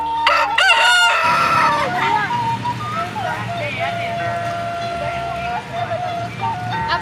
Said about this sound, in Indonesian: dan terdengar suara ayam berkokok.